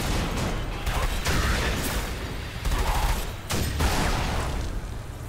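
Turret gunfire in SiN Episodes: Emergence rattles in dense bursts, loud and harsh. Short pauses break up the steady barrage, and no one speaks.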